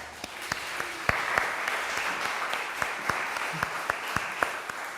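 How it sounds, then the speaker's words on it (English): Steady applause from a church crowd filling a room, a dense wash of clapping with a few sharper claps standing out, no talking over it. "And can we give them a round of applause?"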